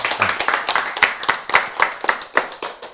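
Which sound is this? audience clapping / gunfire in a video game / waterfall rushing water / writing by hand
audience clapping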